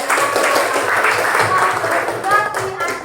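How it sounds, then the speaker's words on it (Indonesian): A classroom claps for a student during a geography lesson, a short burst of dense applause running throughout alongside overlapping voices. "Tepuk tangan untuk Davis."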